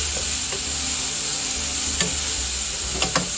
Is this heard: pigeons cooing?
no